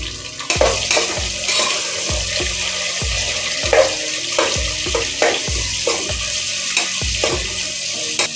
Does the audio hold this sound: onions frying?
yes